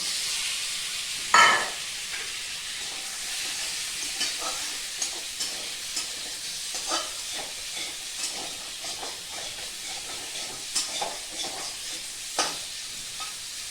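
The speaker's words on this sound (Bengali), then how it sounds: "আলুটা একটুখানি হালকা ভাজা করে নেব" Boiled potatoes seasoned with turmeric and salt fry lightly in a pan, a steady soft hiss dotted with a rhythmic series of stirring taps and scrapes, close by and without speech.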